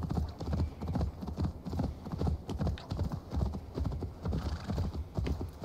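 Horse hooves clip-clop in a quick, steady galloping rhythm inside the video game Assassin's Creed Valhalla, close and clear, with occasional faint neighing under the pounding gait.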